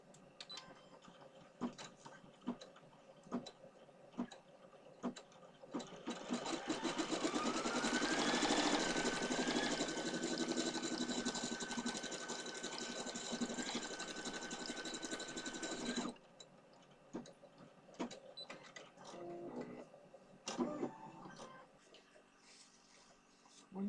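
An embroidery machine stitching a placement outline for a hat, a rapid mechanical whir and clatter that runs for roughly ten seconds and then stops, surrounded by quieter handling noises and a person talking.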